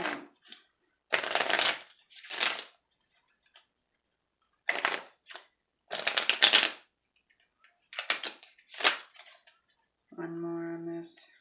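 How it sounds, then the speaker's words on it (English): Tarot cards shuffled by hand in several quick, crisp bursts separated by silences, close and fairly loud, ending with a short ringing chime. "I like to shuffle them a little before I put them back"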